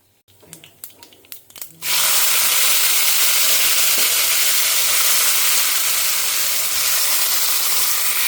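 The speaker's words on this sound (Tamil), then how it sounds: "வாழைக்காயை இங்கே பொடி பொடியாக கட் பண்ணிட்டுருக்கேன். ஒன்லி வதக்கல் தான், பெருசாக ஒன்றும் இல்லை." Finely cut raw banana pieces tipped into hot oil with mustard seeds and lentils, a few knocks and clinks before a sudden loud, steady sizzle fills the rest, close up with no talking.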